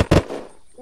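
A single loud, sharp gunshot with a short decaying tail, heard during gameplay of the video game Unturned.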